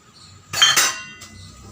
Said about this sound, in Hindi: मैंने सोचा बर्तन धोते धोते आपसे बात भी कर लेती हूँ।